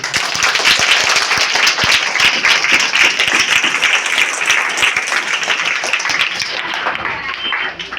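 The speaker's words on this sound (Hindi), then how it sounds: "वाह बहुत सुंदर, ताली बजाओ भाई।" Children in a classroom clap together in loud, dense, slightly uneven bursts that go on steadily for about seven seconds before thinning out at the end.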